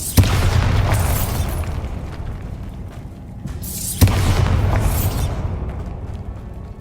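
Two loud blasting-spell explosions in the Hogwarts Legacy video game, each a sharp bang followed by a long rumbling, crackling decay, spaced a few seconds apart.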